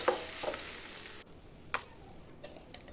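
Cabbage cooked with ghee in a wok, with a soft sizzle that fades partway through and scattered stirring clicks and scrapes against the pan, faint and close.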